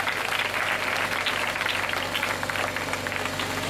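A church congregation at a gathering breaks into strong, continuous applause, dense and loud throughout with a low steady hum underneath.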